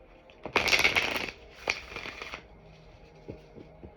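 Moonology manifestation oracle cards being shuffled, with a dense, loud riffling burst early on, a shorter second burst, then a few soft, scattered card taps near the end.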